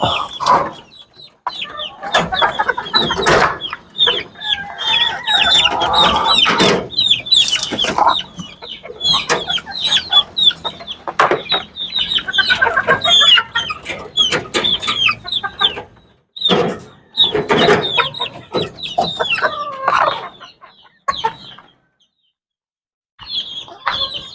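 Chicks cluck and cheep constantly at close range, a loud busy chorus of short overlapping calls that thins out toward the end with brief quiet gaps.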